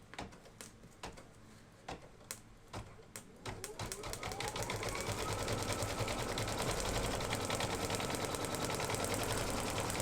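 Embroidery machine tacking down fabric pieces for an in-the-hoop game: a few spaced clicks at first, then a steady, rapid stitching chatter that builds and continues, moderately close with no talk over it.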